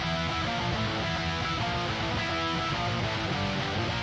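Dense, sustained electric guitar tone from a Kemper amp, processed with EQ and compression for added body, playing steadily and loud for about four seconds with no voices.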